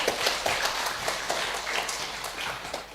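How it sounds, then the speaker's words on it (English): Conference audience applauding after a presentation, a moderate burst of many hands clapping in a dense irregular patter, steady over three seconds in an indoor hall. "Let's give applause, everyone,"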